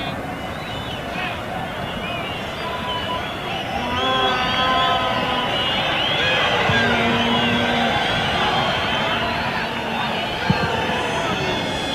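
Stadium crowd at the 1986 World Cup football match between Morocco and West Germany, a broad distant roar swelling and holding, with a commentator talking over it and whistles cutting through.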